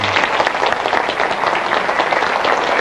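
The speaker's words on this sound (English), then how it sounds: "give him a big hand and a big round of applause" Audience applause for Dan Peña at a one-day business seminar in a US venue: dense, steady clapping from a large crowd, loud and sustained throughout with no voice on top.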